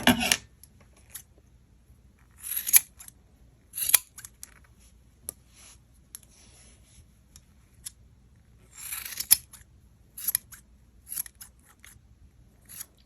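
Scissors snip through beaded tassel loops in scattered bursts of crisp metallic clips, close and quiet, with pauses between groups of cuts.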